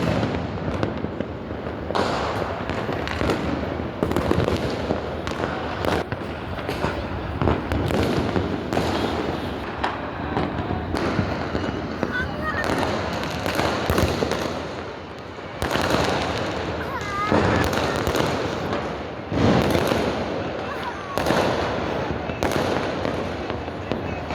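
New Year fireworks burst all across Dhaka city in a dense, continuous barrage of cracks, pops and booms, near and far overlapping, while voices talk and exclaim now and then.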